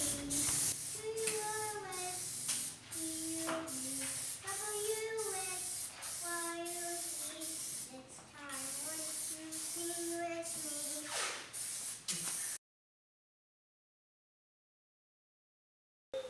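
Plasti Dip spray paint hissing from an aerosol can onto the chrome trim of a Tesla Model X, in repeated steady bursts with short pauses between passes, ending in silence.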